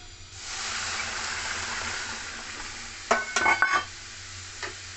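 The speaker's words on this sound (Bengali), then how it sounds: "বেশ খানিকটা জল দিয়ে দেবো।" Water poured onto fried mung dal in a hot wok makes a loud, steady hiss that fades over a few seconds. A burst of clattering stirring follows near the end, heard up close with no talking.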